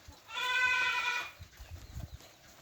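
A goat at a simple farm feedlot gives one loud, close, wavering bleat lasting about a second, followed by soft shuffling and low thumps around the pen.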